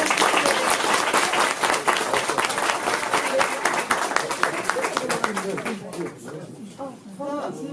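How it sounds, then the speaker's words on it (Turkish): An audience at a Çanakkale Victory commemoration event in the Netherlands breaks into vigorous, dense applause, loud and close, which thins near the end as voices start talking over the last scattered claps. "Arkadaşlarımıza bir alkış"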